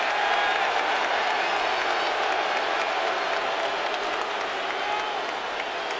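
At a college basketball game between Xavier and Cincinnati, an arena crowd roars in sustained applause and noise, loud and unbroken throughout.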